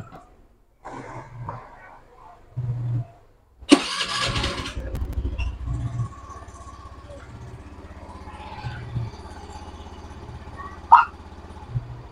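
Honda Zoomer X scooter with a freshly cleaned CVT and new clutch lining starts with a loud burst, then settles into a steady low idle that runs on at moderate level, with brief clicks and a sharp knock near the end.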